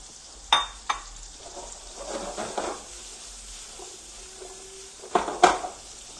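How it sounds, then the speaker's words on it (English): Zucchini sautéing with garlic in guanciale fat gives a soft, quiet sizzle, broken by sharp clinks and scrapes of a utensil against the pan. "Now we saute the zucchini a little bit to give a good taste with the garlic"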